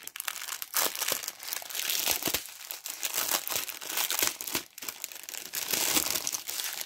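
Plastic bags of diamond painting diamonds being opened and handled, with close, continuous crinkling and crackling in irregular bursts and no talk.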